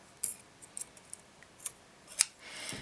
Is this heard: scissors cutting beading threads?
yes